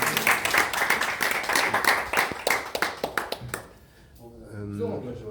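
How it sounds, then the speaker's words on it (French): A small group claps for the cooks at a restaurant in Rouen serving canard au sang, with sharp, close, uneven hand claps for several seconds before they fade and a voice begins speaking. "Il faut les applaudir un peu."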